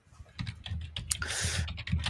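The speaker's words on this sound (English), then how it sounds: "So just while Tim is tippy-tappy typing away there" Fingers type quickly on a computer keyboard during a Halloween gaming talk show, giving a close, steady run of keystrokes in bursts with no talk over them.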